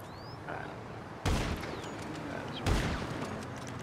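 Video-game gunfire comes as two loud, sharp bursts about a second and a half apart, each trailing off, over a quieter background with faint sounds between.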